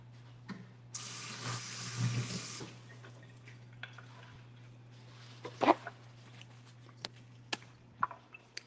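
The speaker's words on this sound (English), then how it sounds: "Let me rinse my hands." Hands rinsed under a running kitchen tap, a short steady rush of water lasting about two seconds, followed by quieter clinks and handling noises.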